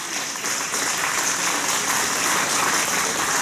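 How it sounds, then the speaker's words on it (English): A festival audience applauds the panel guests at the Fouke Monster Festival. Dense, steady clapping fills the whole span at an even level with no talk over it. "So let's give a big round of applause for these guys."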